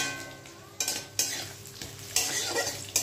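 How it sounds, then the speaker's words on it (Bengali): Potatoes fry in oil in a pan with a constant hiss and crackle, broken by a few sharp scraping stirs, close and without voices. "ভেজে নেব আলুটাকে ভালো করে, কিন্তু একটু লাল করে ভেজে নিতে হবে"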